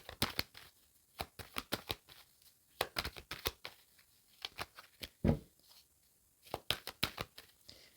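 Tarot cards being cut and shuffled by hand, a rapid series of crisp, close card slaps and riffles in uneven clusters, with one heavier thump partway through and no talking.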